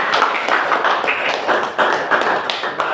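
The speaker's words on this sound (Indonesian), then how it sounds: "Ya, tepuk tangan dulu." An audience claps together in a steady, dense patter of many hands, loud and close, at an event in Indonesia where a speaker has just called for a round of applause.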